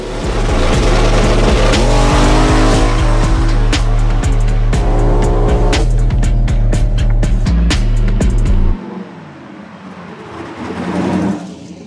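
A donk race car roars past at full throttle with tire squeal, loud sustained engine and tire noise that cuts off abruptly and leaves quieter ambient crowd and track sound.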